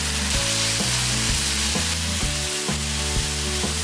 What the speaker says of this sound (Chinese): 一勺豆瓣酱，3片生姜，2勺剁辣椒，炒一下后把剩余的花椒和辣椒也倒进来